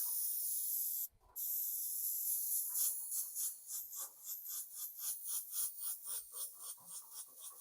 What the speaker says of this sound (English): Make sure you hold the air on when you're pretending to dry it